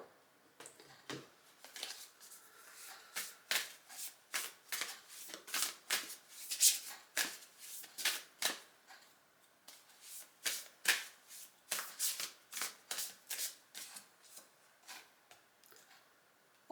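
Tarot cards shuffled and handled close up, a long run of crisp riffling and slapping bursts in an irregular rhythm, quiet and intimate with no voices.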